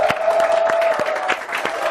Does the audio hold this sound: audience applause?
yes